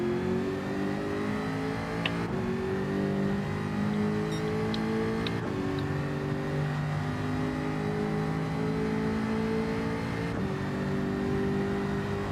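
Race car engines roar in the Gran Turismo 7 video game, a sustained revving drone with harmonics climbing through gear pulls and brief shift breaks, loud and continuous with no talk over it.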